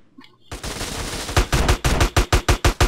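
Combat shotgun fire in the video game GTA San Andreas: after a quiet moment a loud volley of shots begins, then about nine sharp blasts follow in quick, fairly even succession, close and dominant.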